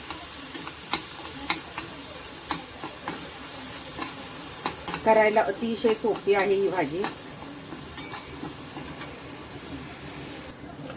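Chilli thecha tempering sautés in a pan for gram-leaf bhaji, a steady close sizzle with scraping stirs of a spoon, while someone briefly speaks over it.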